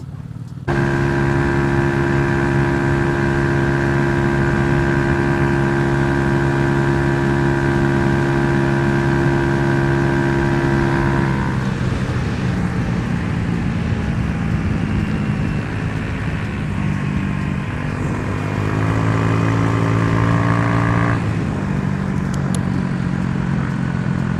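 A group of mini motorbikes, including a quick knobby-tyred one with an aftermarket exhaust, revs and drones past steadily and loudly throughout, engine pitch shifting as they ride by with no talk over them.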